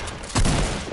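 A single loud, close gunshot burst from the video game Fortnite, a short sharp crack with a heavy low thump, alone without talk.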